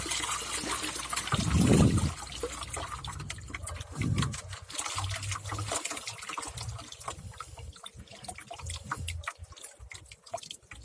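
Water is poured out of a car battery that is being rinsed, splashing and trickling close by in irregular gushes, with a louder pour early on and then thinner dripping and dribbling.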